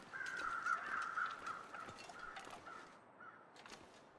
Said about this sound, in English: I seem to remember there were crows up here before in a previous playthrough, but they weren't circling anything.